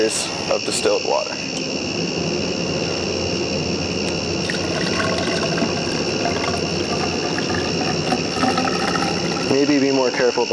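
Distilled water is poured into a lab hydrometer cylinder holding a soil slurry, giving a steady, hissing splash that runs for about ten seconds. A voice can be heard faintly beneath it.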